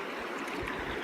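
River water at Crescent Falls in Alberta rushes steadily in a broad, continuous wash, close and fairly loud, with no voices over it.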